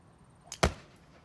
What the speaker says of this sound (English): I heard this sound, and I know the sound of a golf ball taking off